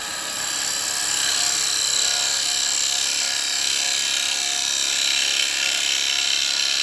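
Carbide chisel taking a deep, heavy cut on a wooden bowl spinning on a lathe, giving a steady, loud, continuous hiss and rumble of tool on wood that holds unbroken throughout.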